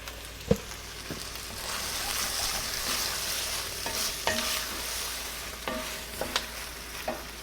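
Vegetarian minestrone soup with pasta gets a quick stir in a pot, a soft bubbling hiss beneath a handful of sharp spoon knocks against the metal, close and moderately loud, without any speech.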